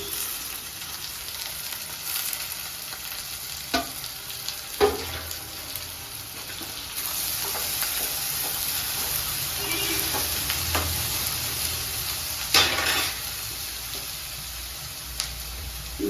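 Chopped onions and pounded garlic sizzle steadily in a pan, with occasional stirring scrapes and a brief splash of running tap water, close and without talk.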